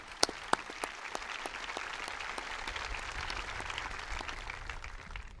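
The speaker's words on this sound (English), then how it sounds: "Let's give them a round of applause, please." Applause from the audience at a Donegal School District commencement ceremony in Mount Joy, Pennsylvania: steady, dense clapping from a large crowd fills the whole stretch, with a few sharp louder claps near the start.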